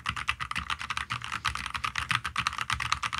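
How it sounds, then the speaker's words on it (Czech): Typing on an ASUS ROG Scope II 96 keyboard with soft, quiet keys: a fast, steady run of close keystrokes with no talking. "Líbí se mně, jak málo hlučný jsou klávesy."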